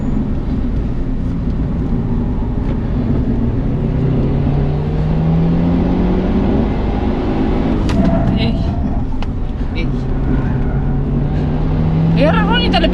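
On a race track, a fast car roars past, its engine note rising and falling as it goes by, under a loud steady drone of the car from which it is heard and people talking.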